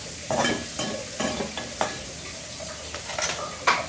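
Onions frying with salt in a pan for Bengali prawn malai curry sizzle steadily while a spatula stirs and scrapes in several sharp strokes, fairly close and with no talk.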